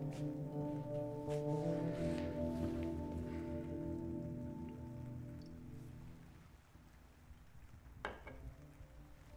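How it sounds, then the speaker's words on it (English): Heavy rain falls outside as a steady hiss of drops on surfaces, loud at first and easing to a softer patter, with a low tonal hum beneath it early on. "It's raining really heavily outside."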